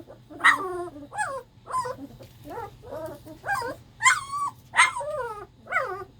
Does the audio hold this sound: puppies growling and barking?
yes